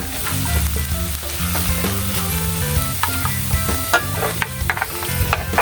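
Ground meat sautéing in a frying pan, a loud continuous sizzle broken by scraping and tapping strokes of a spatula, with no voices.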